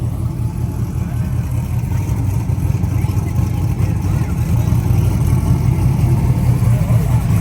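A drag racing car sits on the strip, its engine rumbling with a deep, steady low throb that grows slightly louder toward the end, close by and continuous, with no clear speech over it.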